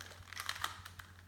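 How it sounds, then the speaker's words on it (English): A Rubik's cube is shuffled up close, a quick run of dry plastic clicks and clacks twisting in fast, irregular bursts over a low steady hum, with no talking. "So I'm going to shuffle it up now"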